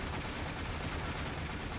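Ceiling-mounted turrets in a video game fire continuous rapid gunfire, a dense, loud, steady barrage with no pause.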